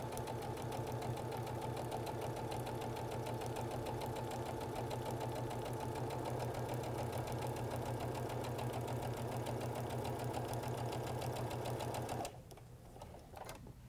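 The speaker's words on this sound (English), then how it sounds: "I'm just going to stitch all the way down the length of this fabric" A Baby Lock sewing machine stitches steadily down a long length of fabric, its close, loud, even mechanical whir running for about twelve seconds before stopping abruptly, leaving quiet handling noise.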